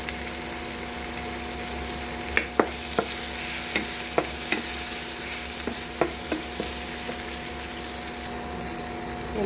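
Tomatoes with salt sautéing in a pan, giving a steady close sizzle with a scattering of sharp spoon clicks and scrapes against the pan as they are stirred.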